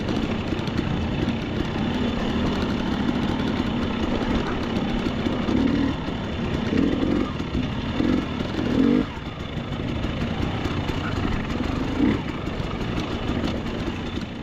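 A dirt bike engine on slick rock with a new IRC VE33 rear tire, idling and revving in uneven bursts with steady mechanical clatter, close and continuous throughout.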